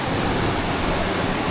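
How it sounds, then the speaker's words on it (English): Small creek behind Colonial Campground, a steady dense rush of flowing water that fills the clip evenly, close and loud with no voices. "We're just gonna do a little more exploring for this little creek that runs behind Colonial Campground"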